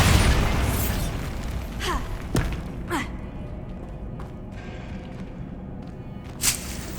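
A Bombarda spell in Hogwarts Legacy detonates in a loud, deep boom that rumbles away, followed by a few scattered thuds and pops at lower volume.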